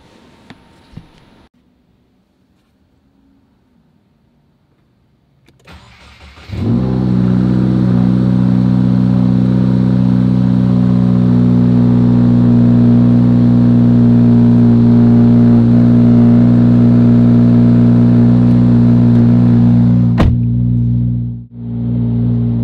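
A 2022 Subaru WRX fitted with a JB4 tuner cranks after quiet rustling and fires up, then settles into a loud, steady idle close by, with a brief dip near the end.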